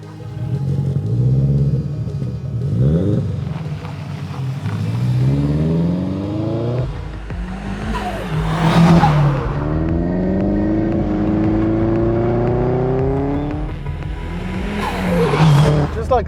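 An original Audi S3 hatchback, its 1.8 engine stroked to a fully forged 2 litre with a huge turbo making 555 horsepower, rumbles and revs hard repeatedly, climbing through gears with sharp throttle bursts, loud and close.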